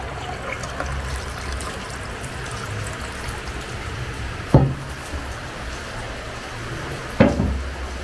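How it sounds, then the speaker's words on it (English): Water pours and trickles steadily over meat being rinsed again after washing, a continuous running-water wash broken by two short knocks. "I've already washed these meats already, so I want to rinse it again."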